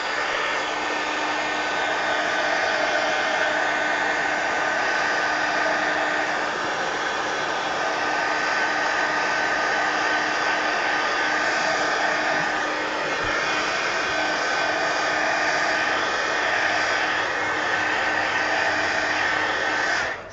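A hair dryer dries ink on a collage background, blowing in one steady, close whir for about twenty seconds before cutting off at the end.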